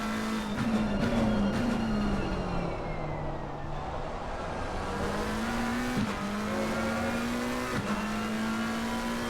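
GT3 race cars lap Laguna Seca in the ACC racing game, engines droning and rising through the gears with sharp upshift dips, a loud continuous roar without talking.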